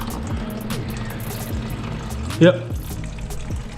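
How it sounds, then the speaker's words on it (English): Coolant from a Honda Civic drains into a bucket during a flush, a steady splashing pour running throughout with a short spoken word near the middle. "Just let it piss into the bucket for a while."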